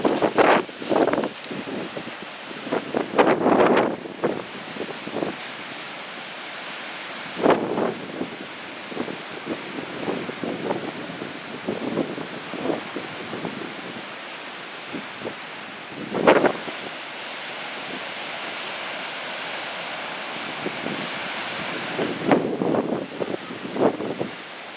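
Strong storm wind roars and gusts in repeated bursts during Tropical Storm Isaias in Ocean City, Maryland, with broadband buffeting rising and falling over a steady rushing background.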